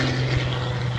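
Aerobatic airplane with a blueprinted, modified Lycoming engine roars steadily at an air show, a loud continuous propeller drone with a strong low hum.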